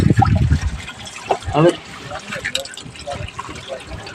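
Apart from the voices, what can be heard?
liquid being poured into a drum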